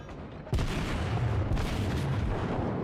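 The main guns of the battleship IJN Kongo fire armor-piercing shells in the naval game World of Warships, a sudden loud boom followed by a rumbling roar, then a second blast about a second later under the continuing rumble.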